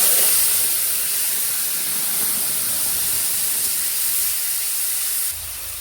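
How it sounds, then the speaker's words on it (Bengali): Nigella seeds and spices hit hot oil after fish has been fried, giving a loud, even hiss that holds steady for several seconds before dropping slightly at the end, with no talk. "এখন আমি কালো জিরা ফোড়ন দিয়ে দিব।"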